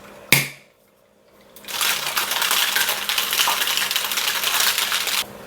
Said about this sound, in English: So I already added ice in here, so let's shake it up.